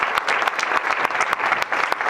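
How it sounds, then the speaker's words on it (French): A morning audience claps warmly for a juggler, a dense steady round of applause from a crowd indoors, close and fairly loud throughout. "Je vous demande de l'applaudir."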